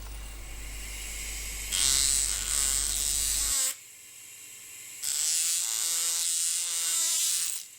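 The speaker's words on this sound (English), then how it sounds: "Friction is now rechecked using the mechanical dental hammer." A mechanical dental hammer rechecking the friction of a telescopic crown gives a high, buzzing electric whine in two bursts, with a lower motor hum between them and quieter gaps.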